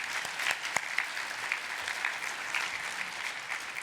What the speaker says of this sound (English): we can give her a round of applause anyway